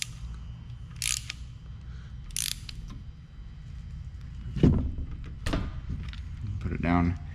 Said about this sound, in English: go ahead and put our drain plug back in. And come back in with our 17mm